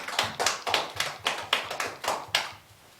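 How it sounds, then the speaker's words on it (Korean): A church congregation claps together in a brief round of applause, with about eight strong, fairly even beats that stop abruptly and leave a quiet room. "우리에게 은혜 주신 하나님께 영광의 박수 올려드리겠습니다."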